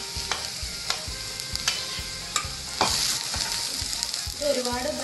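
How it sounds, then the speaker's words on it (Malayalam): Sliced onions hitting hot sunflower oil in a pan, loud sizzling and frying with repeated sharp stirring clatters from a spoon in a steady rhythm, close by with no talking. "എണ്ണ ചൂടായിട്ടുണ്ട്, അതിലോട്ട് നമുക്ക് സവാള ചേർത്ത് കൊടുക്കാം."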